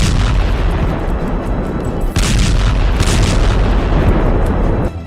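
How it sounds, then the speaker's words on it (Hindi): Bomb explosions in war footage, a loud, dense, continuous roar of booming blasts with sharp bursts layered over a heavy low rumble and no speech. "बस बम बरसते हैं।"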